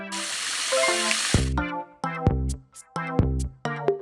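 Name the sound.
rinsing dishes under running water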